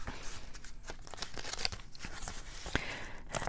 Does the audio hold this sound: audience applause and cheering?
no